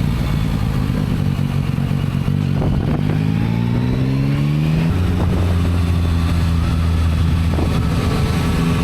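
A motorcycle rides over a Swiss Alpine mountain pass, the engine loud and close throughout, rising through the gears with climbing revs, shifting, then settling into a steady drone with wind noise.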